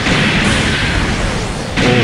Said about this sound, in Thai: แล้วก็ยิงปืนใหญ่ครับ